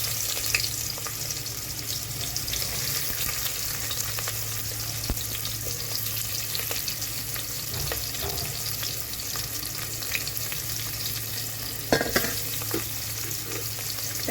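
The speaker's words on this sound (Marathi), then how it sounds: "4 कांदे आणि 4 टोमॅटो कापून घेतलेले, त्याच्यात आता आपण टोपामध्ये टाकून ग्रेव्ही बनवण्यासाठी" Four onions and four tomatoes fry in oil in a pot for a chicken biryani gravy, with a continuous close sizzle and occasional scrapes and clicks of stirring.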